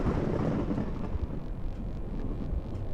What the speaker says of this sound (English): The thunder cackled, and a strange digestive-like sound emitted from the area Ink was absorbed into.